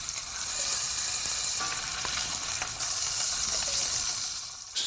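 Pork sizzles steadily in a hot pan, a dense crackling hiss that runs throughout with no voices.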